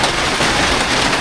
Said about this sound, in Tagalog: Yan lang, ulan.